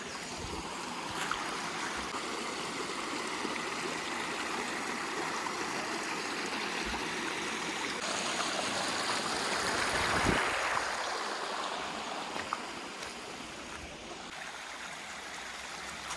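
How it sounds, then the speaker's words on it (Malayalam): A small forest stream rushes continuously, a steady broadband babble, with a few faint knocks and no talking. "ചെറിയ അരുവിയാണ്"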